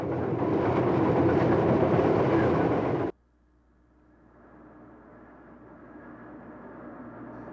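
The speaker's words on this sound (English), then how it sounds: "Next comes a 6-car southbound metro liner, the PRR's attempt to bring high-speed rail to the United States." A six-car southbound PRR Metroliner high-speed train roars past close by, a loud broad rush that cuts off abruptly, leaving a quieter fading rumble.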